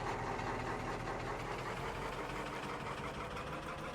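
A truck engine idles in Farming Simulator 22 at Elk Mountain, Wyoming, a steady low rumbling drone with slight knocking, close and even throughout.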